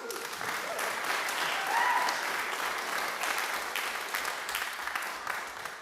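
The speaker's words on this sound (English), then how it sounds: "Let's give them all a round of applause" A concert audience in a hall gives sustained applause, a thick, even wash of many people clapping that swells slightly midway, with a faint tone briefly sounding above it.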